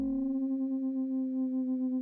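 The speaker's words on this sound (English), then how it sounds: "now I'm creating two sine waves, I put very close to each other, and to one of them here I've assigned an LFO that modulates the frequency" Two synthesizer sine wave oscillators tuned very close together, one frequency-modulated by an LFO, produce a steady pure tone with a slow gentle beating wobble, clean and alone.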